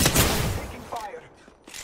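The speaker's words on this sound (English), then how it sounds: "Taking fire." Apex Legends gunfire bursts loud and close at the start, a rapid volley of sharp shots that tails off into fainter intermittent pops, with a brief voice-like tone midway.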